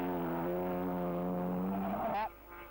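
Vintage Cooper Jaguar sports racing cars, with an Austin Healey 100 in the field, race at Donington Park as a steady engine drone that stays loud and even. It ends with a sharp, rising whine that cuts off abruptly.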